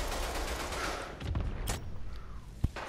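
Gunfire crackles in the Rogue Company shooter: fairly faint bursts of shots with a couple of sharper, louder cracks standing out against a busy game background.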